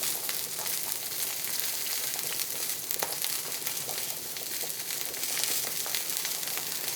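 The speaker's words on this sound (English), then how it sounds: "I tend to put them around the edge of the frying pan." Sausages sizzling in a frying pan, a steady close hiss and crackle of frying fat with scattered small pops throughout.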